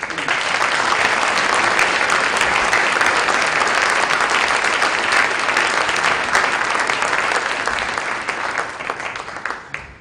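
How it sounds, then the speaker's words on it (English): A sustained, loud round of audience applause for a university concert choir at a public program, dense steady clapping filling the hall for about ten seconds before thinning slightly at the end. "One more round of applause."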